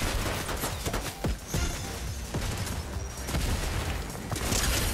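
Video game gunfire crackles in repeated bursts and single sharp shots over a dense, busy battle din, fairly loud and continuous throughout.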